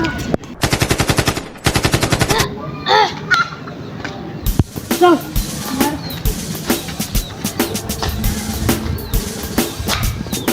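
Bursts of rapid machine-gun fire and single gunshots in a war scene about the 1971 Bangladesh Liberation War, loud and close, followed by scattered shots and clatter with a faint voice under the noise.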